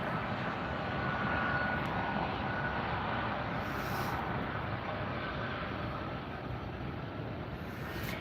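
An airplane arriving at LAX airport gives a steady, unbroken roar of engine and jet noise that holds fairly constant throughout, heard at a moderate distance with no one talking.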